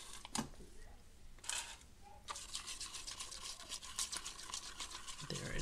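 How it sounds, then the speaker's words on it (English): White paint is swiped thinly across a freshly poured acrylic painting, giving soft intermittent wet smearing and scraping strokes in short bursts, close and fairly quiet. "We're going to swipe it with white."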